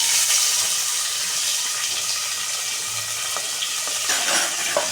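Onion hits hot oil that already holds crackling cumin and mustard seeds, giving a loud, steady hissing sizzle throughout with no talk.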